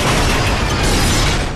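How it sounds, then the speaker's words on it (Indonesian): A dense, loud burst of rapid gunfire from a helicopter in a war film, a continuous crackling roar of shots that holds for over a second before easing slightly at the end. "Yin Yang segera melepaskan tembakan bertubi-tubi"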